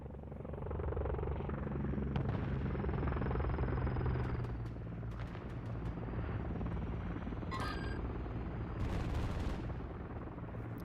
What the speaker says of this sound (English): Friendly Overwatch helo inbound.